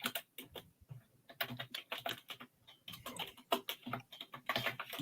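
Someone types hard on a non-clicky computer keyboard, heard as irregular rapid bursts of close key taps with brief pauses between them.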